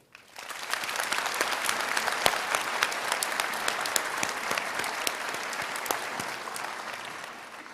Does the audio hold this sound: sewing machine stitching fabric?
no